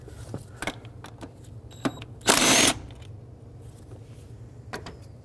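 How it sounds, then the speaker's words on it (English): A 12 mm socket loosens the throttle body bolts on a 2002-06 Toyota Camry engine: sharp metallic clicks and ratchet ticks, then one loud, brief burst of tool noise, up close and without speech. "with a 12 millimeter, go ahead and remove all 4 of these bolts here that hold the throttle body onto the intake"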